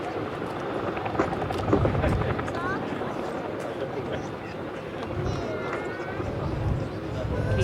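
A Boeing Chinook twin-rotor helicopter at the Duxford summer airshow hovers near a slope, its rotor thud and turbine roar steady and moderately distant, while a commentator talks over it throughout.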